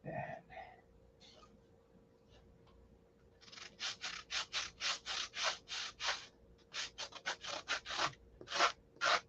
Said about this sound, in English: That needs to be sanded back like that.